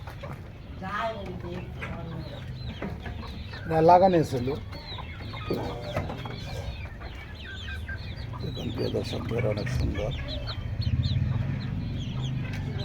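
Chickens on a desi poultry farm cluck and chirp faintly in the background while a person talks over them at close range, with one louder flurry of calls midway.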